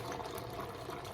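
Beef broth poured from a carton into a cooking pot, a soft continuous liquid splash and gurgle, faint and brief, no talking.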